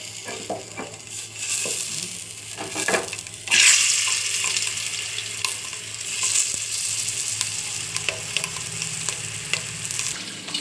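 Hot coconut oil sizzles continuously in a pan, with intermittent scraping and stirring clatter and a brief louder burst of spitting near the start. No voices are heard.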